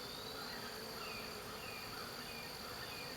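A dense, continuous buzz of many honey bees on a hive frame hums steadily at close range, with no pauses or talk.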